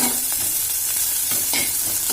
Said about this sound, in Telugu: ఇక్కడ చూద్దాం, కాకరకాయలు ఫ్రై అవ్వాలండి బాగా. ఇది క్రిస్పీగా అవ్వాలి.